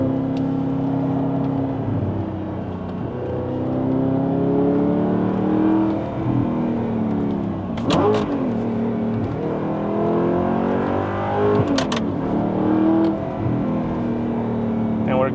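A gated-shifter supercar engine blips and revs through heel-toe downshifts, with a steady loud drone broken by two sharp rev spikes around the middle and later on, heard from inside the cabin with some talk.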